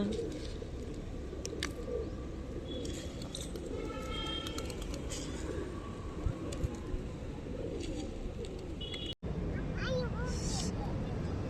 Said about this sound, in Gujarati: કબૂતરને ચણ નાખવા આવ્યા હતા અમે